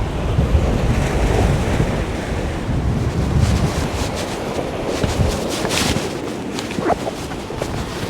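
Heavy surf pounds the Bristol Channel shore with a constant roar as strong wind buffets the microphone, steady and loud throughout.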